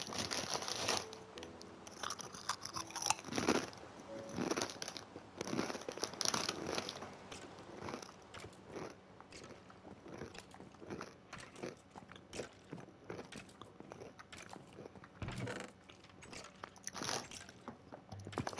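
Crunchy Doritos chips being chewed close up, with continuous crisp crunching and bag crinkling at a quiet level and no talk.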